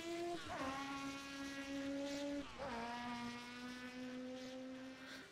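A McLaren race car engine in the video game rFactor 2 holds a steady, buzzing high whine, shifting up twice with quick drops in pitch, with no talk.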